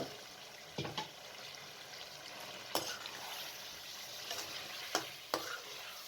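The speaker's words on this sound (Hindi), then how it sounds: "साग डालकर अच्छे तरीके से आलू और साग को भून लें" Potatoes and boiled mustard greens stirred and fried in a pan, a steady low sizzle broken by several sharp scraping clacks of the spoon against the pan.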